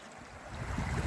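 A small stream flows along a countryside walking trail near Elche, its soft, steady rush of water close by with a slight swell toward the end, no voices over it.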